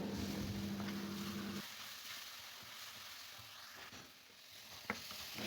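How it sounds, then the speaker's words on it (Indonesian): A quiet steady sizzle of spices stir-frying in a pan, with a faint low hum at first and occasional small clicks of stirring. "lalu ditumis bersama-sama sampai hilang unsur airnya ya, biar wangi"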